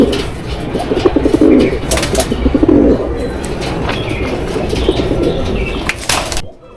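Racing pigeons in a loft coo and flap their wings, a dense continuous chorus of soft cooing and wingbeats close at hand that cuts off abruptly.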